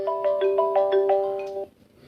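Phone ringtone of an incoming call, a quick bright melodic tone pattern repeating for under two seconds before cutting off, clear and alone.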